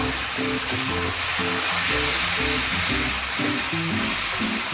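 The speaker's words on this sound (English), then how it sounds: "Fry it until the tomato becomes mashy or cooked properly. Fry it on high heat, high flame." Tomatoes frying on high flame in a pan of prawn coconut curry, a loud, steady sizzle and crackle with a faint rhythmic stirring pattern underneath, no talk.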